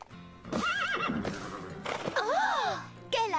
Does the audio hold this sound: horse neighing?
yes